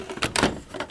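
Plastic slide of a Nerf Maverick blaster pops off after its screws are removed, giving a few short, close clicks and scrapes in about a second.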